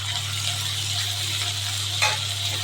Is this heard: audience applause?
no